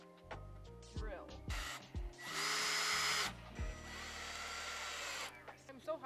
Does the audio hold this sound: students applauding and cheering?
no